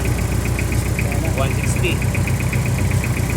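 Toyota Revo engine idling with its faulty AC compressor spinning, a steady close mechanical hum with a faint ticking rhythm, while a person talks over it.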